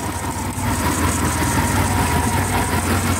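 A 1979 Triumph Dolomite Sprint engine idling from cold, a steady, loud, close mechanical drone with a low, even throb and no voices over it.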